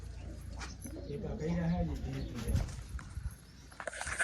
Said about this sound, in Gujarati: બહુ મસ્ત કબૂતર છે બધા